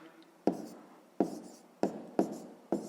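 Pen strokes writing down a decimal comparison for a fifth-grade maths exercise, five sharp taps at uneven intervals with soft scratching between, close and quiet, no talk.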